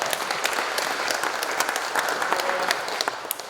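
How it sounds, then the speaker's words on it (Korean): An audience at a residents' meeting on a redevelopment project gives a round of hearty applause. The clapping is thick and continuous, with crisp individual claps popping out, and no speech over it. "든든하시면 박수 한 번 더 부탁드립니다"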